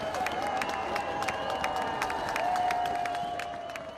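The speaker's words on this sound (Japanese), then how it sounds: "大きな歓声が上がっています。" Outdoor crowd gathered below a hotel balcony for Hiroshima survivor Setsuko Thurlow, cheering and applauding continuously with whistles and shouts, a dense, fairly loud wash of claps and voices.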